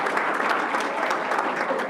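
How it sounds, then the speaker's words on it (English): Steady applause from the audience at a Rochester Board of Education business meeting fills the room, dense and even throughout with no pauses. "Let's give her a round of applause."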